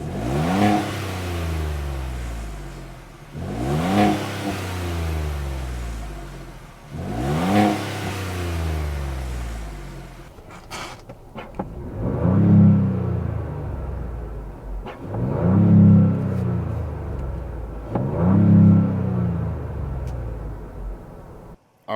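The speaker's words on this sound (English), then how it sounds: "I'm super curious what this exhaust will sound like in sport mode" A 2023 Ford Bronco Wildtrak with a 2.7-liter twin-turbo V6 revs repeatedly in sport mode, six rising exhaust blasts spaced a few seconds apart, loud and close, each falling back to idle rumble.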